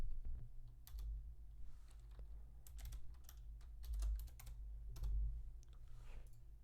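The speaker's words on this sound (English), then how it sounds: "So if I type a function here" Keystrokes on a computer keyboard while entering a function in Microsoft Excel: irregular bursts of sharp, close clicks and taps with short pauses between, over a low steady hum.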